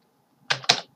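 A quick pair of keystrokes clacks on a computer keyboard during AutoCAD 2020 drafting work, close and crisp in otherwise quiet surroundings.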